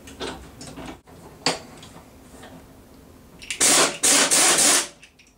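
A puller tool works a pulley off a homemade motor bike, giving scattered ratchet-like ticks and then a few loud, harsh mechanical bursts near the end, close by and without speech.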